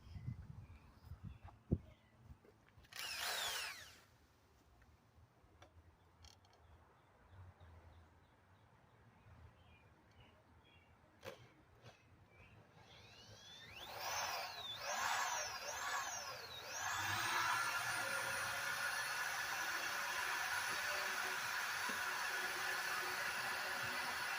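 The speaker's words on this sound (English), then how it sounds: "let's do some drilling" A power drill drills pilot holes in old, dry wood, whirring in short bursts with its motor speed wavering up and down, then runs steadily and loudly for a long stretch.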